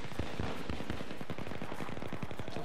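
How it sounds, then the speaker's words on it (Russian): Rapid gunfire bursts from the Battlefield 3 video game rattle continuously throughout, dense automatic shots layered over a steady battle din with no voices. "Стреляет, мать его."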